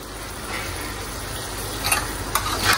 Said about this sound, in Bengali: এগুলাকে একটু কড়া করে ভাজবো, আর এগুলাকে একটু জুসি করে ভাজছি।